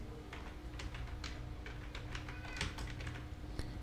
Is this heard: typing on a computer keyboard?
yes